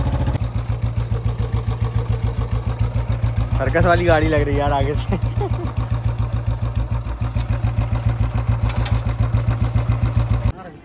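A Royal Enfield Bullet motorcycle idles with a steady, loud, even thump-thump beat that carries on throughout, while someone talks over the engine for a short stretch.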